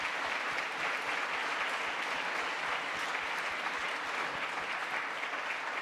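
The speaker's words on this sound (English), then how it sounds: "give a round of applause for all 17 speakers" Steady, sustained applause from a conference audience for a morning session's speakers, a dense even wash of clapping from a seated crowd with no talking.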